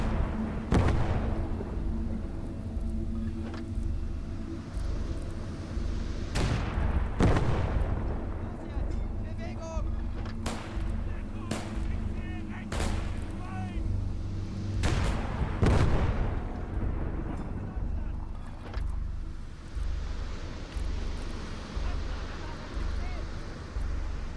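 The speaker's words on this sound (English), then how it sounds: "It's a machine gun, it's not artillery." Gunfire and heavy thuds crack again and again in Call to Arms Gates of Hell: Ostfront, with sharp reports spread across a battlefield over a steady rumbling background and a voice talking at times.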